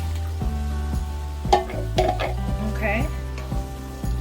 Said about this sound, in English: We're gonna add our big can of diced tomatoes.